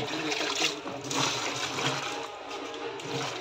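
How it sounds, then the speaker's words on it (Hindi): Water pours and trickles steadily while someone washes their feet outdoors during a Ganesh visarjan, a continuous close splashing flow with no speech over it. "पाँव धो रहा है ये प्रभु"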